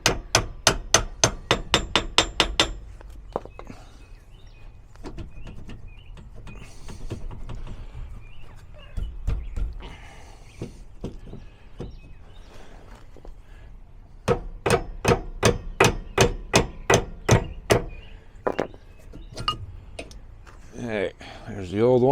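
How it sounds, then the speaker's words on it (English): Rapid strikes of a two-pound hammer ring out in fast bursts, with a quieter stretch of clanking and talking between the two runs of blows, while replacing a fifth-wheel RV shackle bolt. "we got a little 2-pound hammer here"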